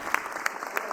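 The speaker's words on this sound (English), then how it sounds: "Just give him a round of applause" At a mayor's press conference, a small group claps in a short, sparse round of applause, a few distinct claps standing out against a quiet room.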